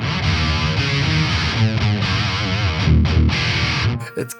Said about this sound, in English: It's like an octaver with a little bit of an extra distortion, maybe like some fuzz type thing going on.